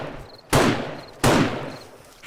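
Two loud, sharp gunshots from a weapon in the zombie survival game 7 Days to Die during a horde night. Each crack decays slowly into a reverberant tail, fired about three-quarters of a second apart.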